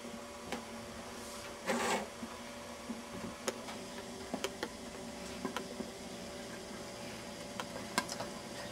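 Water boiling in a pot for cooking green beans, a steady quiet bubbling hiss with scattered small pops and ticks throughout.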